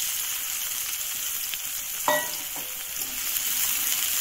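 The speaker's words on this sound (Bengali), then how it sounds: "সুন্দর করে পেঁয়াজগুলোকে ফ্রাই করে নিতে হবে।" Onions sizzle in oil in a kadai, a steady close frying hiss with one brief clatter of a utensil partway through, no talking.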